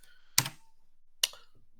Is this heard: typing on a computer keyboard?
yes